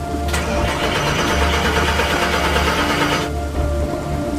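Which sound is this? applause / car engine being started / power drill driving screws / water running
car engine being started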